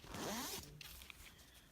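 A zipper on a cosplay jacket for Natsuki Subaru from Re:ZERO is pulled in one long, close rasping run, followed by faint small clicks and rustles of the fabric.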